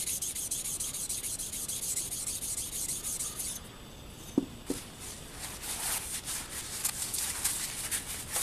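A sharpening stone rubs back and forth across the flat metal surfaces of a machine part for an Atlas 7B shaper, a soft, steady scraping that pauses briefly, then resumes with rhythmic strokes.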